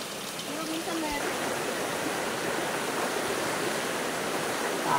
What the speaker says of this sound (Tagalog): Ito yung ilog talaga ito eh.